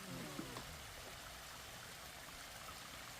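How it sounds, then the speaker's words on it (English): Water from a pond being pumped out by a submersible pump pours in a steady broadband rush, like a stream splashing onto ground. It runs constantly and fairly close, with no talk. "We're gonna run this for about 30 minutes. Our water's pumping out over there."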